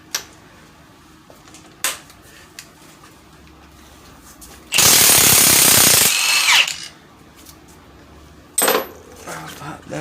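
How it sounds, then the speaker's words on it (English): An impact gun loudly rattles for about two seconds while removing 13mm bolts holding the power steering pump bearing on a 2007 Pontiac Grand Prix, amid scattered metallic clicks and clinks of tools and a shorter final burst. "we're going to pop these, I think they're 13mm bolts to hold the bearing in"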